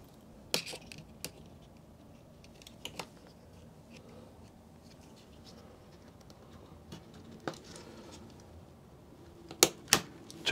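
DDR5 32 GB DIMM memory modules snapping into motherboard slots, a few sharp, close clicks scattered across a quiet background, with a tight pair of clicks near the end.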